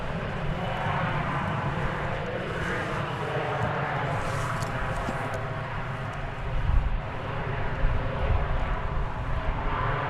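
A jet airplane at DFW Airport, apparently landing, rumbles as a steady, broadband roar that swells slightly toward the end, heard from a distance with no talk.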